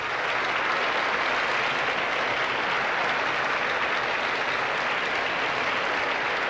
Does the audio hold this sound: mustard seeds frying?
no